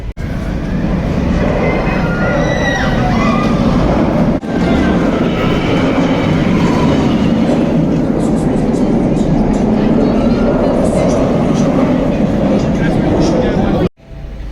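The Nemesis roller coaster train at Alton Towers rumbles loudly and steadily at night, a continuous mechanical roar with some squeals, and people talking beneath it.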